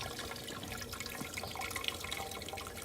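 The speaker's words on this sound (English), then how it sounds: "And there goes the water pump inside." Small water pump running inside a hydroponic vertical garden, a faint steady trickle and splash of circulating water, heard alone.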